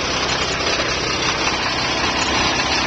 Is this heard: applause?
no